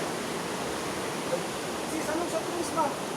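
Steady rushing water of a river flowing in Apayao, Philippines, a broad continuous wash of sound with faint voices briefly audible over it.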